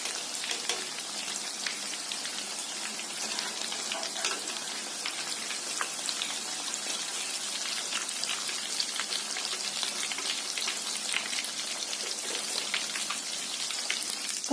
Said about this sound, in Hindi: और अब हम बचा वाला भी फ्राई कर लेंगे।